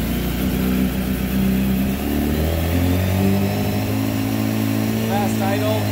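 A BMW S1000RR sport bike under crash repair fires up and settles into a loud, steady fast idle with a rising rev, heard up close, with a person talking over it.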